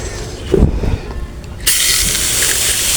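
After some low handling noise, a close, steady hiss of fine spray from a spray bottle watering succulents starts and continues unbroken to the end.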